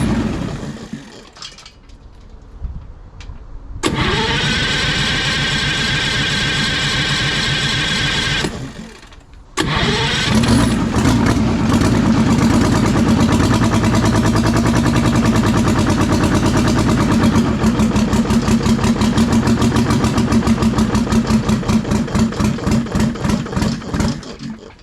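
A Detroit Diesel 6V53 two-stroke diesel engine cranks briefly, catches, and settles into a loud, steady running clatter with a rapid pulsing beat, with no voices.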